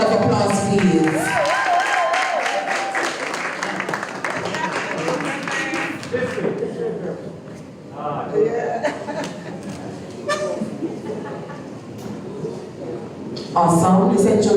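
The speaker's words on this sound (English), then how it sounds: "Let's give them a round of applause, please." Scattered applause and light laughter rise from the audience at a debate final as the best speakers are honoured, with people talking over the clapping throughout.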